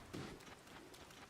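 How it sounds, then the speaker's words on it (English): Steady rain pours down in a fantasy video game, a dense, even hiss of drops hitting surfaces with a brief low rumble near the start, continuous and fairly loud throughout the short stretch. "How are you shooting flaming arrows in the rain?"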